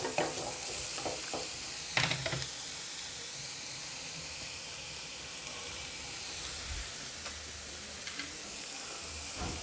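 Onions frying on medium heat in a pan, a continuous even sizzle and hiss with occasional stirring scrapes, close and moderately loud, no voices.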